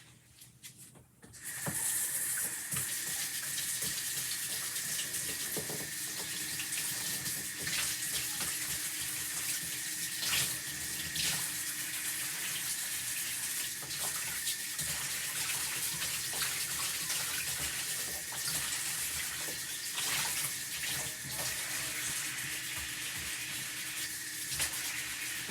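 Water runs steadily from a sink tap as craft tools are rinsed, a continuous close splashing stream that begins after a brief quiet moment and continues unbroken.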